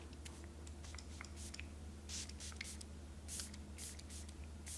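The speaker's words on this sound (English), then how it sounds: "I'm just gonna go ahead and spritz." Facial setting mist from a spray bottle is spritzed in several quick, soft hissing bursts, faint and close, over a quiet low hum. No one speaks.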